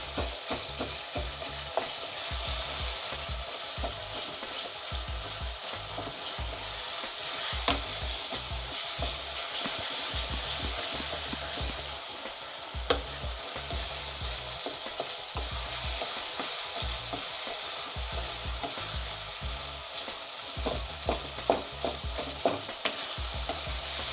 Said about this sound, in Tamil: தக்காளி நல்லா வதங்கி சுருண்டி வரணும்